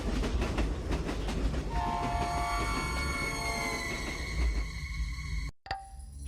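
A train rolls past steadily with a rumble and clatter, and its horn rings out in long sustained tones. The sound cuts off sharply near the end and then resumes more quietly.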